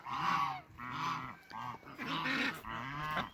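Geese on a farm honk repeatedly at close range, giving four or five loud, nasal calls in a row with barely a pause between them.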